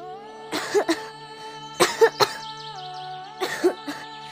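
A person coughs after sweeping up dust indoors, three short bursts of two or three harsh coughs each, close by, over a faint steady background hum.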